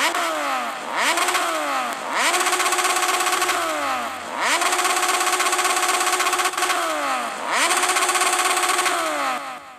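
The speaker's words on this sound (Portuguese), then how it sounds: "a próxima de 1000 cilindradas, que é Z1000, só que com outro escape," A Kawasaki Z1000 motorcycle with an aftermarket sport exhaust revs in a video game, three loud rising throttle blips, each climbing and then dropping back to idle, close and alone.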